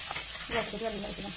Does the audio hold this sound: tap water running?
no